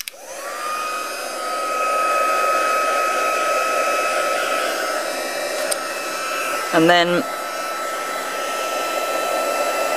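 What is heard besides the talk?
embossing heat tool blowing hot air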